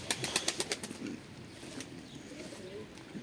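Training pigeons fly in and land with a quick burst of wing claps and flapping at the start, then fade into quiet outdoor ambience with faint background noise.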